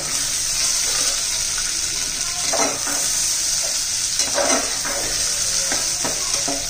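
Field beans sauté with onion in a pan, a loud, even hiss of frying with several bursts of scraping as a spatula turns the mixture.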